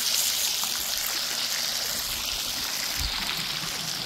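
A water fountain beside mermaid sculptures in Iowa splashes steadily, a continuous broadband rush of falling water with no talking.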